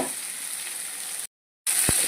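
Grated coconut frying in oil in a pan for tomato chutney, giving a steady, close sizzle that cuts out briefly to silence and then resumes with a soft stir.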